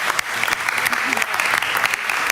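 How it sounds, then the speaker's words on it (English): An audience at a European literature evening claps warmly for a few seconds, a full, even burst of applause from a crowd in a hall, with a faint voice under it. "Maybe a round of applause."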